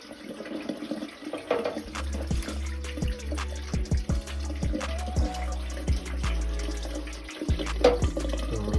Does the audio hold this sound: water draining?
yes